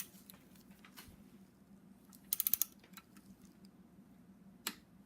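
Ratcheting torque wrench tightening connecting rod bolts on a BMW N54 engine during a rebuild of a 135i, a quick burst of several sharp ratchet clicks midway, with scattered light tool ticks and a later single click in a quiet shop.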